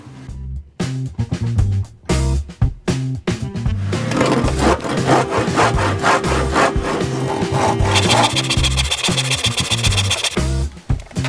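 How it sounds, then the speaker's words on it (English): A hand saw cuts through the wooden leg of an IKEA piece, its strokes rasping in a steady back-and-forth rhythm, close and clear, with a few knocks and scrapes around them. "Cut this part off with a saw."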